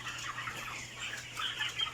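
Broiler chickens on a farm cluck and chatter in a dense, continuous flock murmur, close and moderately loud, with scattered higher peeps over a low hum.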